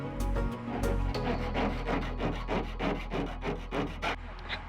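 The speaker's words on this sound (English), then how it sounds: "And now just therapeutically cutting holes in the van" A metal tool works through the metal body of a van in a run of rhythmic rasping strokes, close and fairly loud, following a couple of heavier scraping hits at the start.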